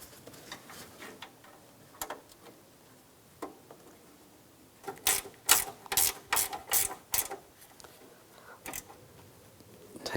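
Ratchet clicking in bursts while tightening bracket bolts on a 2004-2009 Toyota Prius radiator fan assembly, scattered ticks at first, then a loud close series of rapid strokes in the middle, then sparse clicks.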